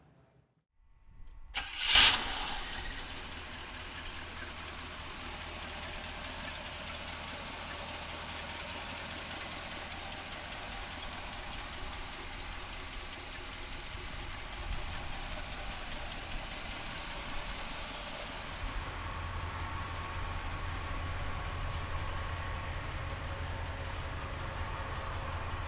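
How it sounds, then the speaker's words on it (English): A 1965 Cadillac Deville convertible engine cranks and catches with a loud burst, then settles into a steady, rumbling idle that carries on alone for more than twenty seconds, its tone shifting slightly near the end. "So come on up and we'll fire it up for you right now."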